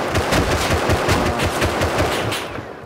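Rapid semi-automatic rifle fire in the Rust video game, a close, loud string of evenly spaced shots cracking in quick succession before tapering off.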